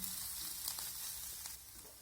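Cauliflower paratha filling sizzles softly in a hot pan while being stirred, a faint steady frying hiss with light scraping touches, brief and without voices.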